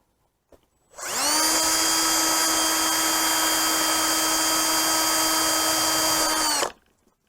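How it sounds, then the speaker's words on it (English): A powered wire brush scrubbing crusted rust off a metal item pulled up by magnet fishing, a loud sustained whine that spins up, holds steady for over five seconds, then winds down to silence. "let's hit it with a wire brush and see how shiny it gets"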